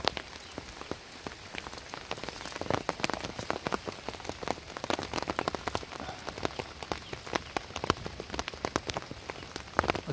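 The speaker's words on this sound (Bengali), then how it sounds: "মাঝে মাঝে খুব জোরে সোরেও বৃষ্টি হইতেছে" Monsoon rain falls during outdoor fishing, a dense patter of drops striking surfaces with sharp close drips scattered through a steady wash. No one talks.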